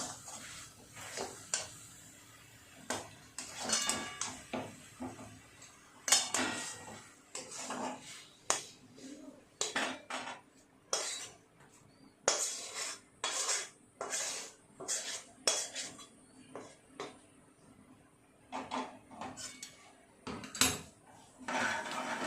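Cooked coconut sweet mixture for narkel taktis is scraped and tipped from a pan onto a plate, giving a long run of sharp metallic clinks and taps, irregular and close, with no speech.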